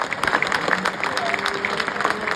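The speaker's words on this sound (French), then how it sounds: "elle est vendue, et on peut applaudir très fort" A crowd claps loudly and steadily at a Limousin heifer auction once the calf is sold, dense applause filling the short moment.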